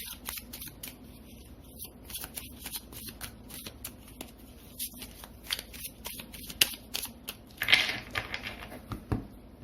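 Tarot cards are drawn and shuffled by hand, with a quick series of soft, close card flicks and papery snaps at an irregular rhythm, fairly faint and without talk.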